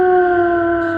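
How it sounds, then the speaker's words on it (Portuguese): A werewolf howl sound effect rings out through a dark forest, a loud, sustained eerie tone that holds steady for about a second with no talking. "De repente, um uivo ecoou pela floresta"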